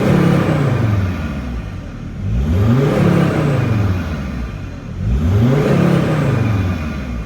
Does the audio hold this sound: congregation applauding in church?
no